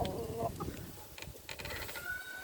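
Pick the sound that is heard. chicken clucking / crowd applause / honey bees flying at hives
chicken clucking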